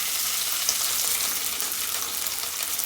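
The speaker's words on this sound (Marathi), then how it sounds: "मिरच्या फ्राय होत आहेत" Green chillies fry in hot oil in a kadhai, a close, steady, bright sizzling hiss with no pauses and no talking.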